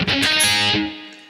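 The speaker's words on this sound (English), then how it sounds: "And then I'm going to play all 3 strings in one downstroke sweep that sounds like this." A single distorted electric guitar downstroke sweeps across three strings for a lead part, striking loudly in one burst that rings briefly and then fades, with no talking.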